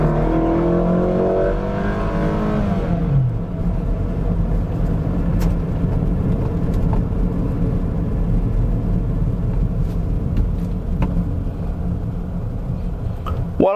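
A 2005 Toyota Camry sedan with a 2400 cc engine accelerating on an open road, heard from inside as a loud, steady low engine rumble with a rising tone at the start that settles into a constant drone.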